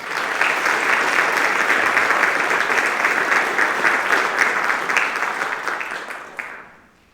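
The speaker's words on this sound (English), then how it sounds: "Sierra Seafelt, Isabella Snowball, Please join me in a round of applause to congratulate these new inductees." Sustained applause from a sizeable crowd at an honor society induction fills the room, steady and dense for several seconds before tapering off and fading to quiet.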